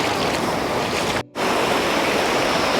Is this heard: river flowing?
yes